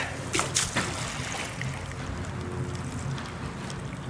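Grain slop draining and splashing out of a tipped whiskey fermenter outdoors, a steady wet rush with a few sharper splashes near the start, continuous and fairly close.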